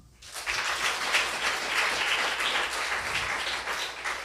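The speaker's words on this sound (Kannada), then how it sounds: "ಚಪ್ಪಾಳೆ ಹೊಡೀರಿ." A church congregation at a Sunday service clapping together, a dense, steady wash of applause from many hands that starts abruptly and carries on evenly without talk.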